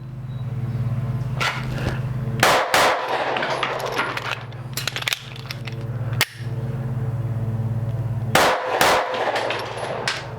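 Pistol shots fired at a rotating target on a range ring out as several sharp, loud cracks over a steady low hum, in pairs spread across the clip.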